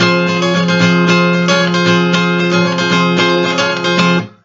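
A guitar chord strummed in a continuous, even rhythm, loud and close, stopping abruptly at the end.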